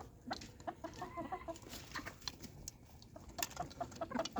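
Several free-range backyard chickens cluck and chatter in short, irregular bursts, fairly close, with a busy background of coop noise and no talking.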